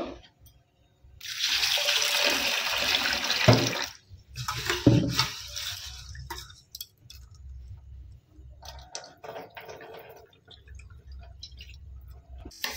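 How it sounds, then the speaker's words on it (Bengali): Lentils being rinsed in water in a home kitchen, with a steady splash of running water that breaks into sloshing and swirling as the grains are washed, close and fairly loud, with no talking. "এটাকে ভালো করে ধুয়ে নিব"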